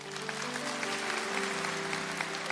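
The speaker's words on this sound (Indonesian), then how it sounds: "Berikan tepuk tangan untuk Roh Kudus." A church congregation at a Sunday worship service gives a quiet, even round of applause, heard softly at a distance over a steady sustained tone that is probably music.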